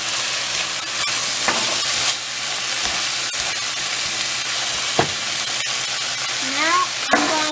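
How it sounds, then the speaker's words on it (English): Soy sauce hits stir-fried Peruvian tallarin saltado noodles in a hot pan, giving a loud continuous sizzle with scraping stir clicks and brief hissing flare-ups. "Now I'm going to add some soy sauce."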